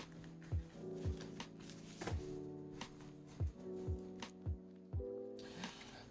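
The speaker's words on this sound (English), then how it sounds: "it's been a while since I've shuffled my cards" Playing cards shuffled by hand in a quiet room, a series of quick riffling bursts and soft taps repeating every half second or so, close and fairly faint, with no talk.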